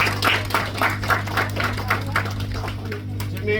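A handful of people clap at a middle-distance running clinic during a Q and A, a short run of sharp, fairly evenly spaced claps that fades out after a few seconds, with no voices over it.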